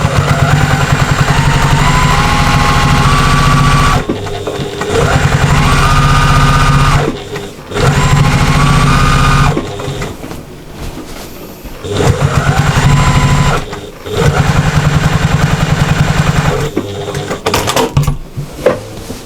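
A sewing machine stitches crosshatch quilting lines across a lap quilt, a loud, steady mechanical whir running in long stretches of several seconds, stopping briefly between passes before starting up again.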